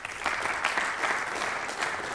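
Warm, continuous applause from an audience at an energy briefing on synthetic fuels, steady and moderately loud with no talking.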